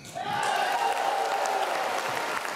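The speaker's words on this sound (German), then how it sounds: "Applaus für die Klettergruppe aus Wuppertal" Audience applauds steadily for an award-winning climbing group for people with multiple sclerosis at a German sports awards ceremony, dense clapping sustained throughout with a tonal hum running underneath.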